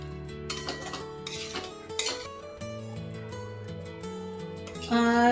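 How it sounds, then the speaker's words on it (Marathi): Red pumpkin curry being served from a pan: scattered metallic clinks and scrapes of a spoon against the pan, fairly quiet, with a few sharper knocks. "आता मी गॅस ऑफ करते आणि भाजी सर्व करते"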